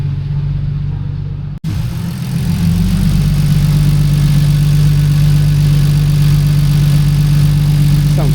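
A car engine runs steadily on a dyno in a Japanese garage, a loud, constant droning hum that resumes after a brief cut near the start and holds an even pitch throughout.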